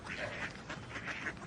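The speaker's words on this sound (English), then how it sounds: "In the Royal Parks, Mr. Greaves, it is forbidden to feed the ducks" Ducks in a royal park quacking repeatedly in a faint, busy chorus, with several calls overlapping at a moderate distance.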